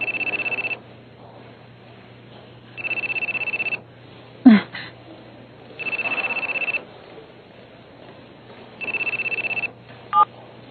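Cellphone belonging to a leader in a Tagalog-dubbed Hunter x Hunter anime episode set in York New City, ringing in three repeated bursts over a steady low hum, with a sharp click and a brief chirp between rings.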